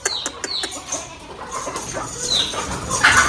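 Chickens on a small livestock farm cluck and chirp in short, scattered calls at moderate distance, with a flutter of movement and a rising rooster-like call near the end.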